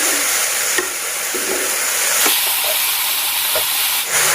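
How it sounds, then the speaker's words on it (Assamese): Frying in a pan with tamarind, salt and turmeric added, a loud continuous hiss and sizzle with a few sharp stirring knocks against the pan. "এতিয়া ভালকৈ ভাজি ল'ম এইখিনি"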